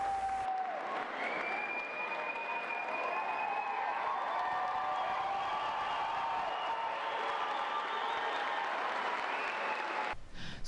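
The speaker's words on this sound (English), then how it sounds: "Then came the applause. A standing ovation for these graduates standing up for their school." A standing ovation for high school graduates at a graduation ceremony: steady crowd applause with some cheering, sustained for about ten seconds and heard at a distance, fairly faint.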